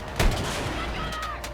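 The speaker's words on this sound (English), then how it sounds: "They're just peppering us with the cannons here" Cannon shells strike a tank in the video game Battlefield 6: one sharp, heavy impact lands early, followed by a sustained low rumble with fainter metallic ringing.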